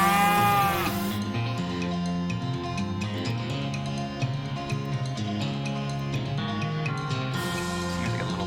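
Cattle mooing in the video game West of Loathing, low drawn-out lows rising over a steady music bed with layered tonal parts, no talk.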